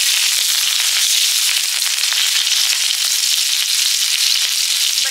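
Dried chillies, five-spice, bay leaf and green chilli frying in mustard oil, a loud continuous hissing sizzle with dense crackling pops throughout, close up and without talking.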